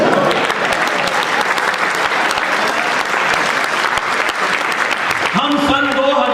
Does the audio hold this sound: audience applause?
yes